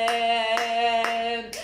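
A congregation at a Hindi Friday worship service claps hands together in a steady rhythm of sharp, evenly spaced claps over sustained musical tones.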